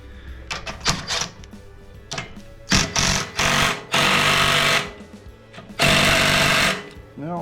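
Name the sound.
removing bolts from a John Deere snowblower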